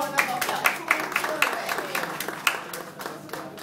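Audience applause at a live presentation, a moderate patter of individual claps with distinct sharp hits, fairly close, and a voice talking over it.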